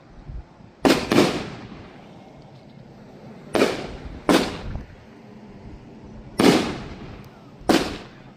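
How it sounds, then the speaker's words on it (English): Fireworks at an outdoor show go off in sharp, booming pairs of bangs spaced a few seconds apart, with faint crackle and ambient noise between the blasts and no talking. "This is probably going to be the last fireworks show we have."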